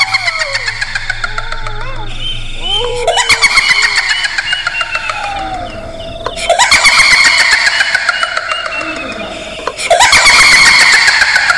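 A car engine cranks with a squealing starter, catches and revs loudly, repeating several times in close succession, each start bursting into a harsh, close roar.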